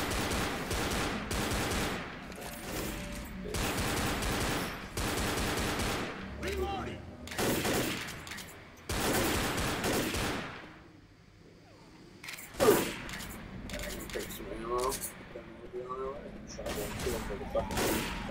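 Pistol fire in Left 4 Dead, sharp loud shots in repeated clusters across the stretch, with quieter gaps and game noise between volleys.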